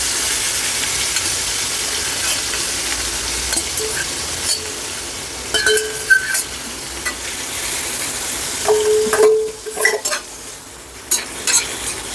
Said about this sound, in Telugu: సో వీటిని లో ఫ్లేమ్లో బాగా వేపుకుందాం.